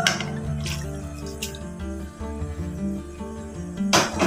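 Water poured from a glass into a pan on the flame while cooking dhaba-style tawa keema, a steady splashing pour lasting several seconds with a brief louder burst near the end.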